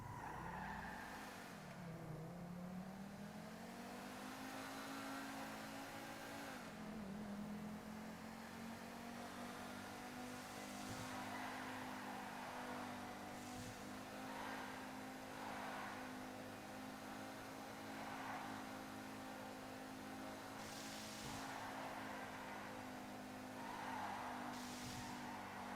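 A car test driven through the streets of Los Santos in a video game, its engine droning steadily as pitch swells and dips with acceleration, plus brief tire squeals, continuous and fairly close with no talking.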